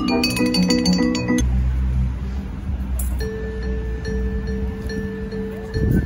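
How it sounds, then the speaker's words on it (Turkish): Glasses holding different water levels are clinked in quick succession, giving bright ringing tones at different pitches, followed by a sustained, fading chime. "Seviyeleri farklı bardaklar var ve hepsi farklı bir ses çıkarıyor."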